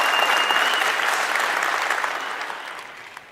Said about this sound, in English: Let me clap it up for Project.